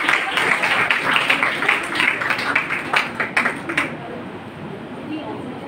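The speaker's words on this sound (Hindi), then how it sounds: "बहुत सी तालियों में इस्तकबाल करें अलीजा इमरान।" An audience claps steadily to welcome a student prize-winner at a college poster competition, the dense applause continuing for several seconds before thinning out near the end.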